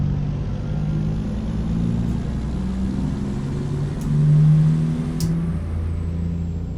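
A heavy truck engine in American Truck Simulator drones and revs through gear changes, a steady low rumble that rises briefly in a louder surge near the end, with no voices.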